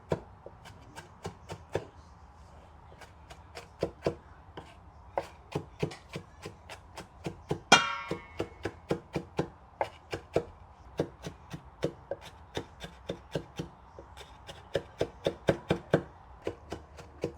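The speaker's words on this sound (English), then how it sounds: "And now you mix the onions with the parsley. You finely chop them together." A knife finely chops onions and parsley together on a board for Lebanese kofta: quick, crisp, regular taps repeated throughout, close and clear with no talking.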